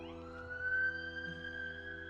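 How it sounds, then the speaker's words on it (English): An ambulance siren passing outside, a faint, steady wailing tone held mostly level with a slight rise, heard distantly through walls with no talk over it. "Hope you didn't hear that ambulance go by."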